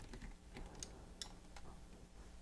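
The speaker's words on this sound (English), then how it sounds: "I heard some clicking, must be a relay somewhere" Sharp relay clicks from inside a Tascam DA-6400 recorder as it powers up, a few scattered ticks over a steady low hum from a small fan.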